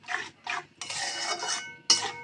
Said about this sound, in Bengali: মশলাটা আমি ভালো করে কষিয়ে নেব, মশলায় তেল ছেড়ে দেওয়ার আগ পর্যন্ত।